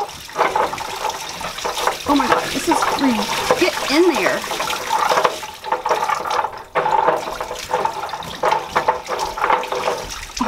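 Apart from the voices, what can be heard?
water gushing out of unscrewed basement pipe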